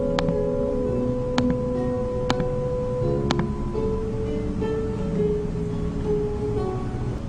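Equalizer-processed audio signal with the hum removed, leaving a steady tonal mix with a few sharp clicks and shifting sustained tones at moderate level throughout.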